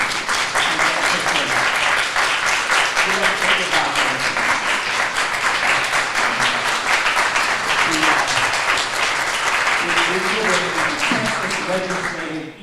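Audience applause at a live lecture, dense sustained clapping from a large crowd, loud and even for about twelve seconds, with faint voices mixed in beneath it.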